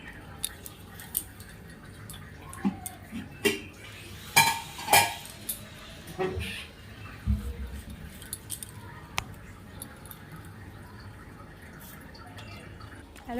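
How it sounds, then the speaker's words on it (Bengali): A knife slicing cucumber and guava on a home kitchen board, giving sparse, close clicks and thuds with a few louder chopping knocks in the middle, then quieter scattered taps over a soft room hum. "মনোযোগ সহকারে কাটছি শশা আর পেয়ারা।"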